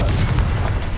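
A Confringo fire spell blast in Hogwarts Legacy lands as a short, dense, booming burst with a heavy low rumble, loud and close, with no voices over it.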